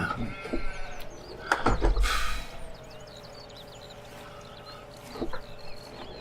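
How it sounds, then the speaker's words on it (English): Sheep bleat on a farm beside a tractor, a loud cluster of calls near the start and another around two seconds, then a quieter bleat near the end over steady engine hum. "We must have the most kamikaze sheep in existence."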